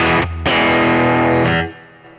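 Electric guitar played through a Kemper profile of a 1969 Band Verb amp, a loud distorted chord rings out, briefly cuts, then strikes again and sustains with a warm mid-range before fading.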